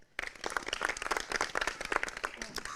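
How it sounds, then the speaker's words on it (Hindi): Villagers and farmers at a Chaupal Charcha gathering in Surana village, Ghaziabad, clap in a lively, close burst of applause that begins abruptly and carries on for nearly three seconds. "तो एक बार जोरदार तालियां हो जाए"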